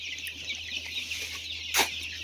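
Chickens at a poultry farm cluck softly and steadily against a droning background hum, with one louder sharp call near the end.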